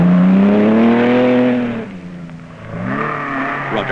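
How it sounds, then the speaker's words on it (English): A rally car races flat out against the clock on a stage close to other traffic, its engine note loud and near, sweeping up through the revs, dropping briefly, then climbing hard again. "Timo McKinnon is already thundering his way in a flat-out race against the clock on ground close to other traffic"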